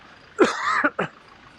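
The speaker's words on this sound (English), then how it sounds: "Oh, I got a cough." A single harsh cough, close and fairly loud, breaking into a short throat-clearing burst, then a brief second hack before quiet returns, on a street near Sukhumvit Soi 11 in Bangkok.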